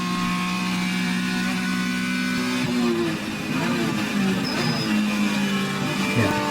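A race car engine holds full throttle on a track, a steady loud drone with rising tonal engine notes and a brief dip midway, heard from close by and without talking.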